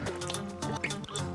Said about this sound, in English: going ahead and throwing it in the water and submerging it